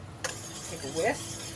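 A whisk stirs horseradish sauce seasoned with black pepper and salt in a bowl, giving a brief soft swishing and light clinking, close and quiet.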